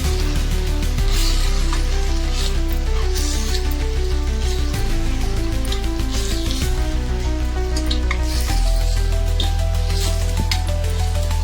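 Mutton sizzles loudly in a pan as turmeric and chili powder are stirred in for an Andhra-style gongura curry. The steady frying hiss sits under prominent background music.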